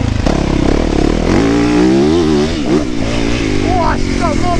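Kawasaki KX450 or Yamaha YZF450 motocross bike engine revving steadily and loudly up close, its pitch rising and dipping through the throttle changes, with voices talking over it.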